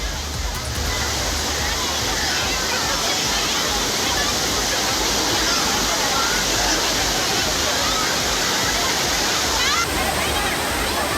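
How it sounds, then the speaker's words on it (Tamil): Water cascading like a waterfall over Kodiveri dam, with a steady, loud broadband roar that fills the whole stretch and scarcely changes, while crowds of tourists bathe beneath it. "கொடிவேரி அணையில் குவிந்த சுற்றுலா பயணிகள் அருவி போல கொட்டும் தண்ணீரில் உற்சாக குளியல் போட்டனர்"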